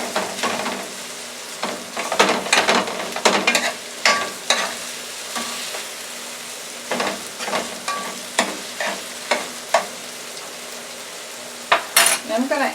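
Corn kernels cut from the cob fry in olive oil with a continuous sizzle, punctuated by a dozen or so sharp metal utensil scrapes and clanks against the pan.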